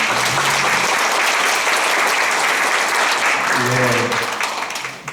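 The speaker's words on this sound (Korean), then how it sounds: "윤상현 의원님을 뜨거운 박수로 맞아주십시오." An audience at a forum launch ceremony in Changwon applauds warmly to welcome a speaker, steady loud clapping from many hands that fades out near the end, with a few voices underneath.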